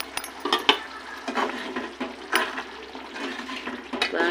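Tomato chutney with a small piece of jaggery bubbling as it simmers in a pan, a steady sizzling hiss with soft intermittent pops and occasional light clinks, fairly close.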